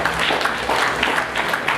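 Audience at a Rotary club installation function applauding their president, a short dense burst of many hands clapping close by, with no voices over it.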